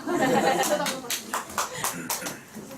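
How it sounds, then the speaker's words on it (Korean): Audience members at a group business meeting give a round of applause, loud clapping at first, then scattered separate claps mixed with talk and light laughter. "다시 한번 큰 박수 부탁드립니다"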